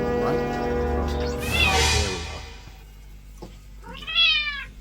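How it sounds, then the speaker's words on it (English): A small black cat screams and meows for oat milk in a home kitchen: a long, loud, wavering yowl, then a shorter, higher meow after a pause, with faint background noise. "you're going to hear some screaming from a small black cat to your right."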